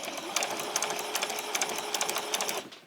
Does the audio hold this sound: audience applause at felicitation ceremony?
no